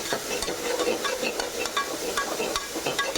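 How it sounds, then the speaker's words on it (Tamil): Onion paste sautéing in oil for kovakka (ivy gourd) thokku, a steady close sizzle broken by repeated scraping strokes of a spoon against the pan, with no voices. "நல்லா வதக்கணும்"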